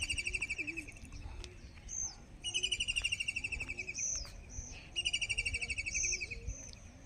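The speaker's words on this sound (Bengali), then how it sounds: "পাখির আওয়াজটা কত সুন্দর লাগছে শুনতে।" Birds singing in the grounds of an ancient sun temple, with repeated bright chirping phrases in bursts a few seconds apart, fairly clear over a soft outdoor background.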